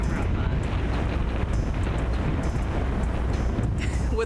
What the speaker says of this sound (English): that should show you how windy it is